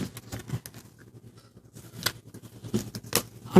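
A square of origami paper folded diagonally while making a gorilla, with soft crinkles, light taps and short scraping creases close up in a quiet room.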